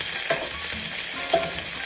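Onions frying in oil for a simple curry base, a dense steady sizzle with a couple of brief spoon knocks as they are stirred, close up and without speech.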